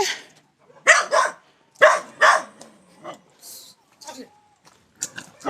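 A dog barks in a few sharp, loud bursts close by, with short pauses between them, while people talk around it.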